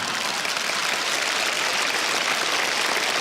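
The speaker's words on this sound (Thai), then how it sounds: "พวกเราไม่ปรบมือสาธุการให้ท่านบ้างเลย" An audience at a Thai Buddhist seminar applauds in a dense, continuous wash of clapping that holds at a steady level from start to finish, with no voices on top.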